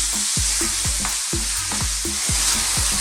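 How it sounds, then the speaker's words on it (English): Chicken and bean sprouts stir-fry in a pan with a steady loud sizzle, broken by repeated scraping stirs of the spatula in an even rhythm. "I'm going to stir this around for like just a couple of minutes"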